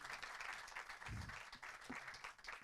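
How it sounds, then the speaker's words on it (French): Audience applause closing a round-table panel on retail without printed flyers, steady broadband clapping that is moderately faint and continuous, with a few low thumps and no clear talk over it. "Vous pouvez les remercier chaleureusement de vos applaudissements."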